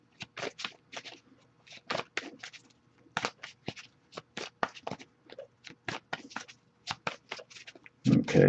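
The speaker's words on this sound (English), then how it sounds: "I'll give it a few more shuffles though." Tarot cards are shuffled by hand for a love reading: repeated quick riffling bursts in a steady rhythm, close and fairly quiet, with a brief louder rustle at the end.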